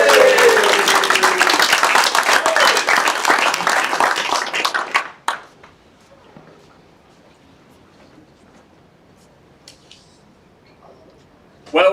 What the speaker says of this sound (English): We want a hearty round of applause.